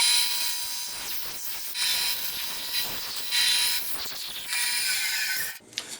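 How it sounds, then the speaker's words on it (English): A band saw with a 1/8 inch blade resaws wood with a steady high, gritty whine, the tone rising and easing with the feed before cutting off near the end. "I'm resawing with an 1/8 inch blade"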